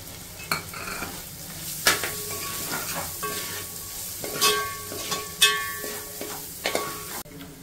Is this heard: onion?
yes